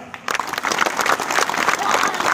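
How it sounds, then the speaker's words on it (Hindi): Brief burst of audience clapping at a school event for a seed ball making project, starting abruptly after a short pause and continuing steadily with a dense patter. "एक बार जोरदार तालियां"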